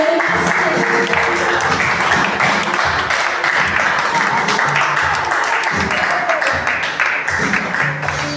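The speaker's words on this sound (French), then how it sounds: "Est-ce que tu peux l'applaudir?" Applause from a church congregation during a French-language worship service, sustained clapping running steadily throughout with voices mixed in.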